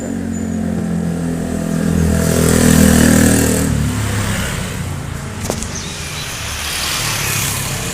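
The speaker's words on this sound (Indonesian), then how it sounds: "Sebelah kita ini bengkel motor pemirsa." A motorcycle engine running beside a motorcycle repair shop, a loud close steady drone that swells into a rev and then settles back to a rumbling idle.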